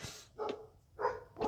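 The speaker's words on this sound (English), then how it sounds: "I got some barking dogs." Dogs bark at someone walking past a gate, three separate gruff barks spaced roughly half a second apart, heard at moderate distance with no talking.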